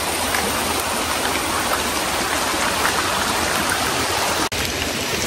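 A rain-swollen jungle stream flowing from a waterfall in the Panchgaon hills pours in a dense, continuous roar, loud and close, with no voices over it.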